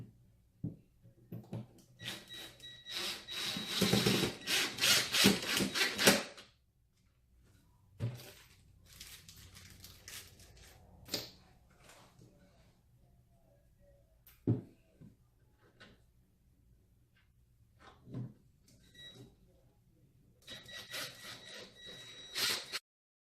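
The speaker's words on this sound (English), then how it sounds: "I will be securing our table using my impact driver fitted with the Phillips head tip." Impact driver with a Phillips head tip driving screws into a table during furniture assembly, heard as a loud sustained rattling burst followed by several shorter, quieter bursts.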